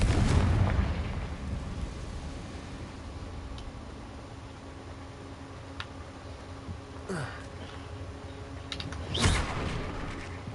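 Confringo blast spell in Hogwarts Legacy, a booming blast at the start followed by quieter rumble and a couple of sharp bursts, including one louder crack near the end.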